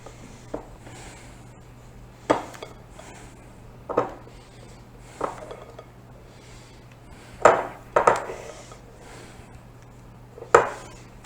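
A spoon scraping and tapping against a casserole dish while spooning a cornbread chicken mix over the top, with sharp, scattered clinks and scrapes every second or two over a quiet kitchen background.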